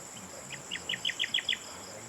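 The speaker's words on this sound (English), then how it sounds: "Right on cue, a bird sang a little song for us." A short bird song of about six quick, high chirping notes in a rising series, fairly faint over a quiet, nearly windless outdoor background on a farm in the Philippines.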